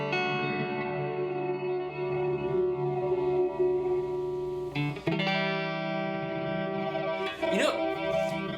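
An electric guitar runs through a Chase Bliss Onward effects pedal, producing lush, sustained pad-like layered tones that swell and hold steadily, with a brief shift partway through and a few picked notes near the end.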